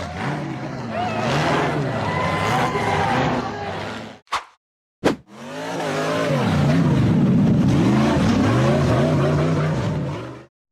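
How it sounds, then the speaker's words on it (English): A gray off-road buggy's engine roars hard up a steep muddy dirt hill, loud and revving with rising and falling pitch, cutting out briefly in the middle before surging again for a long sustained climb. "The gray buggy powered aggressively up the muddy dirt hill"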